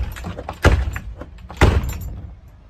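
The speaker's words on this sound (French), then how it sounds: "il galère avec la porte." Someone tugs at and rattles a stuck door, with two sharp loud knocks or jolts and some jangling and scraping between them.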